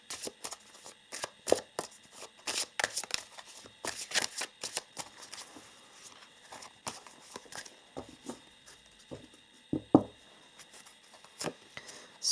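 Oracle cards handled and shuffled close by, a run of crisp riffling bursts and soft slaps in an uneven rhythm, with no one talking.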